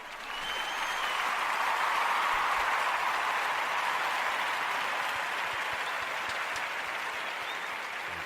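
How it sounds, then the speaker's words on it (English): A studio audience gives a long, steady round of applause for a guest, the clapping swelling quickly and holding loud and even for several seconds before easing slightly. "That was a very long hand clap."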